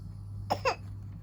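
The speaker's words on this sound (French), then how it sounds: "Oh là là, tu tousses mon petit chat." A baby gives two short, soft coughs in quick succession, close by over a low steady hum.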